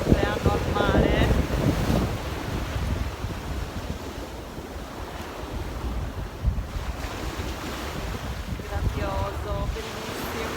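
Sea waves wash onto a deserted beach at Solanas, a steady roar of surf mixed with heavy wind buffeting the microphone, and a voice surfaces faintly at moments.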